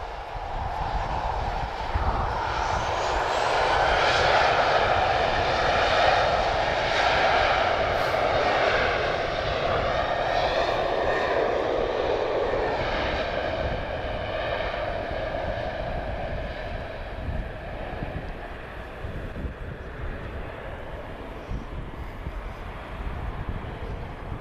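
An airliner on approach to Lisbon Airport passes overhead, its engine roar swelling with shifting tonal bands, then slowly fading into a lower rumble as it moves off.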